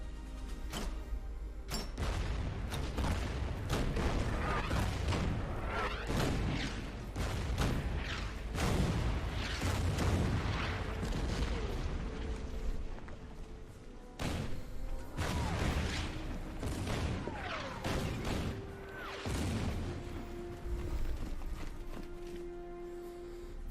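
Bombing and artillery in the WWII strategy game Order of Battle, with repeated sharp blasts and booming impacts, some clustered in quick bursts, at moderate loudness throughout.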